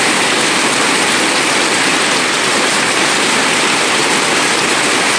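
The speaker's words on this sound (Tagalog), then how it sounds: "Kusog sa uwan." Heavy rain pours down in a dense, loud, unbroken hiss, close and constant throughout with no voices.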